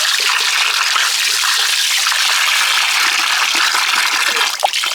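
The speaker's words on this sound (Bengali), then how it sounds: "মাছ খুব ভালো করে পরিষ্কার করে ধুয়ে নিতে হবে।" Running water from a tap washing coral fish in a kitchen before cooking: steady, bright gushing and splashing, close and continuous with small clatters, no talk.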